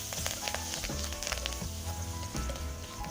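Two stalks of curry leaves hit hot oil with a steady, close sizzle and crackle while cooking a thick, spicy South Indian salted fish curry.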